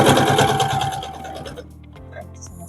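A sewing machine stitches a fabric coaster with a fast, rhythmic mechanical whirr up close, running steadily for over a second before slowing and stopping, leaving quiet handling sounds.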